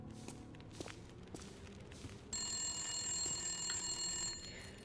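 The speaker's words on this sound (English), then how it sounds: "Man, still got the old rotary phone." An old rotary phone rings in The Long Dark, its metallic bell trilling steadily for about two seconds after faint footsteps, then cutting off.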